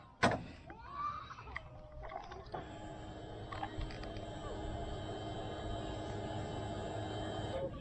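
A CFMOTO 400NK motorcycle with an inline-two engine starts with a sharp burst, revs briefly, then settles into a steady idle hum, heard close and alone.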